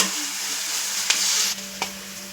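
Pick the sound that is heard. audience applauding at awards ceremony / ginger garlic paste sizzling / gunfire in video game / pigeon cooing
ginger garlic paste sizzling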